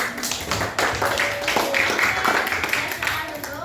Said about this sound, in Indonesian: Tepuk tangan untuk Astia.